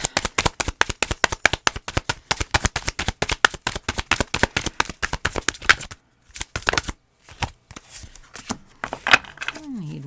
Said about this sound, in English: Let me just get a good shuffle in.